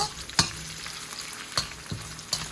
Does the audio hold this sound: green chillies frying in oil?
yes